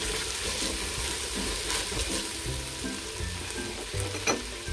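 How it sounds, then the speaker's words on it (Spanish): Tomato frying in a pan over medium heat with steady stirring, a continuous close sizzle broken by scraping strokes of the spoon, with no talking. "Vamos a añadir el tomate. Siempre removiendo constantemente."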